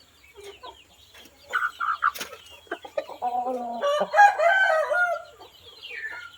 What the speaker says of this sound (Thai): ไก่อายุเจ็ดเดือนนะครับ